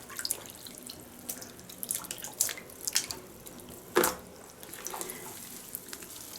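A knitted garment swished and pressed through a basin of wash water to lift a stain, giving irregular sloshes and drips with one sharper splash midway, close and moderately loud.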